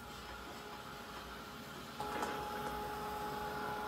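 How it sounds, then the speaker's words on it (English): A heat gun starts up halfway through, blowing a steady, quiet whirring hum with a faint whine while drying paint on an art journal page, over low room noise. "I'm just going to hit that with a heat gun to dry it off."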